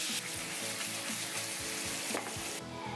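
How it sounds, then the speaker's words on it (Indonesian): Duck pieces, first braised in spices, frying in hot oil with a steady, loud sizzle and crackle throughout, with a few rhythmic scraping stirs. "dimulai dengan menggoreng bebek yang sebelumnya diungkep dengan bumbu rempah"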